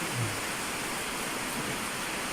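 Heavy typhoon rain pours steadily outside, a dense unbroken hiss that holds at one level throughout with no talk over it.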